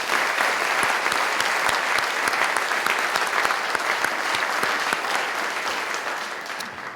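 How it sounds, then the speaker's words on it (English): An audience applauds the youth wind ensemble at an orchestra conference, with steady, dense clapping from a large crowd that holds evenly for several seconds before tapering slightly at the end. "Let's give them a round of applause."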